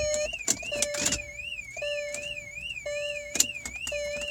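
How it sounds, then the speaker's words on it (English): Car alarm of a 2004 Volkswagen Phaeton W12 sounding, a warbling electronic tone rising and falling in steady cycles, loud and close, with a few sharp knocks and clicks cutting in. "see there, the alarm just went off"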